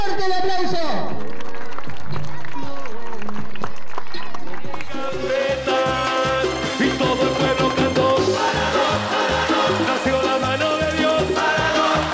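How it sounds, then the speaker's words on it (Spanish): Crowd applause at a youth football awards ceremony. A swelling, sustained clapping wash rises after a few seconds and continues steadily under music, with a voice speaking over it at the start. "fuerte el aplauso"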